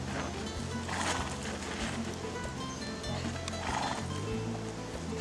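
A pack horse carrying a 150-pound load on a mountain trail ride between Vail and Aspen walks with steady rhythmic hoof thuds and faint rustling, fairly quiet and distant, with no clear whinny.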